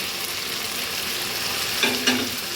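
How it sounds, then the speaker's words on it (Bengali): Spices, including coriander powder, Kashmiri red chilli powder and turmeric, frying in oil and being stirred for mutton korma give a dense close sizzle with a couple of brief scraping strokes near the end and no talk. "এগুলো দিয়ে আমি এবারে ভালো করে কষিয়ে নেবো কিছুক্ষণ"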